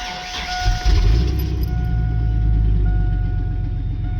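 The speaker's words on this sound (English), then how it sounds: "Put the clutch in, turn it on" A 2000 Chevy Silverado with a manual transmission cranks and fires up with the clutch pedal held in, the engine catching around the one-second mark and settling into a steady, close, rumbling idle.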